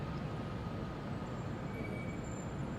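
Low steady rumble inside a class 442 Talent 2 S-Bahn train in a train simulator game as its doors open, a continuous hum with faint high whine, no distinct door mechanism standing out.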